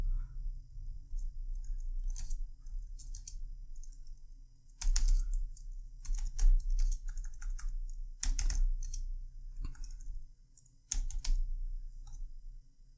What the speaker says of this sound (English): Wow, my keyboard is on the deathbed.